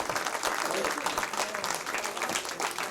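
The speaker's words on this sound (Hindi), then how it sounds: "सिर्फ तालियों की गूंज में हम उनका इस्तकबाल करना चाहते हैं।" Applause from the audience at a mushaira welcoming Urdu poet Professor Waseem Barelvi, a continuous wash of many hands clapping at close range, with faint voices mixed underneath.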